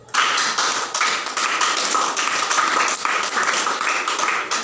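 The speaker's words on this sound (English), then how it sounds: "let's clap for her, please" Classroom audience applauding a student presenter at a pharmacy review session, brisk continuous clapping from a group, close and loud, lasting several seconds with slight swells.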